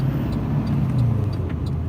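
A pickup truck towing a trailer full of trash through an intersection, heard from inside as a steady close engine drone and road rumble with light rattles.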